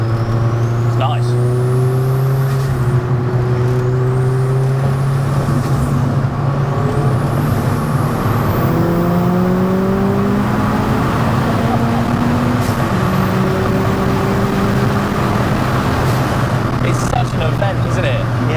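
Tuned 340 bhp fully built Abarth 595 on 17-inch wheels, engine climbing through the revs under acceleration with a rising, fairly high-pitched note, heard from inside the car alongside steady road noise and people talking.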